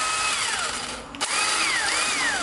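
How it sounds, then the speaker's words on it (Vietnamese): A battery-powered Japanese-market drill driver that also drives screws whirs steadily with a rising and falling motor whine. It stops briefly partway through and then spins up again, loud and close, with no voices. "Nè, chạy cực kỳ im nha các bạn."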